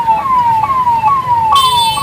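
An ambulance stuck in a traffic jam, its siren loud and close, wailing in repeated descending sweeps about every half second, with traffic rumble underneath.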